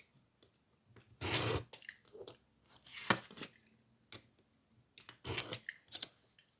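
Paper being cut with a blade drawn along a ruler while assembling a 16x16 cm scrapbook album, heard as a few close, short scraping and slicing strokes separated by quiet pauses.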